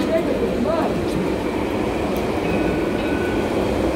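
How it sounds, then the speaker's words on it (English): A Jerusalem light rail train on line L1 passing along a city street in the rain, a loud, steady rolling rumble with faint squeals from the wheels, close and continuous throughout. "See the light train."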